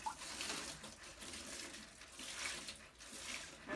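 Soapy water poured from a container over snack packages and household items to clean them, a continuous, soft, splashing wash with a steady trickle and no talk.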